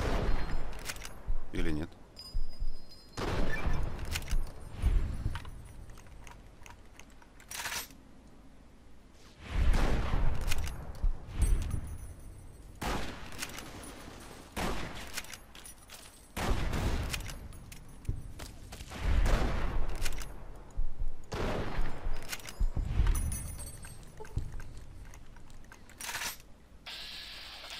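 A gun fires in Fallout: New Vegas, sharp loud shots repeated irregularly in spaced bursts with mechanical clicks between them, while someone talks now and then.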